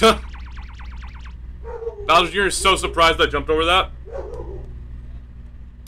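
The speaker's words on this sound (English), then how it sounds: "sorry about the dog barking, guys" A pet dog barks in a quick run of sharp, repeated barks at the start, heard from a room away, before someone talks over New Super Mario Bros. U Deluxe gameplay sounds.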